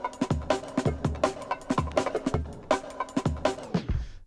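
A Shadows record played back at 45 rpm, giving a punchy drum-led groove with sharp, evenly spaced hits and bright instrumental tones, loud and close with no voices.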